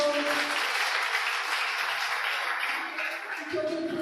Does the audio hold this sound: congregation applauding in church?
yes